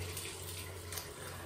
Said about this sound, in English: Fill this up with water for washing your hair.